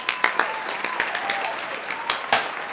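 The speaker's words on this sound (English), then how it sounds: "Let's give them a round of applause." An awards-event audience applauds its sponsors with a faint, sustained wash of clapping heard from a distance, with a few sharper individual claps standing out above it.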